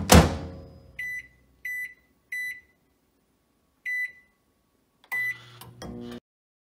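A microwave oven heating a bowl of oatmeal opens with a clunk and fading rumble, then a run of single keypad beeps at uneven intervals, and ends with a longer beep as the oven starts humming.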